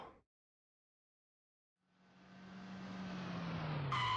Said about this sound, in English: The bike bursts from the staircase behind us, then stops at our feet with a screeching of brakes.